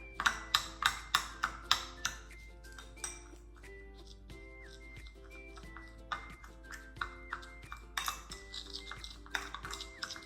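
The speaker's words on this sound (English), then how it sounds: "I'm just breaking up the brown sugar so that it can all get mixed in evenly" White sugar, light brown sugar and cinnamon are stirred together in a bowl, giving repeated rhythmic clinks and taps of a utensil against the dish, close and light, over quiet background music.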